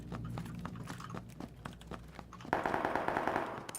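AK rifle gunfire in PUBG, heard as rapid bursts of sharp distant shots in uneven clusters, followed by a denser, louder stretch of rattling fire.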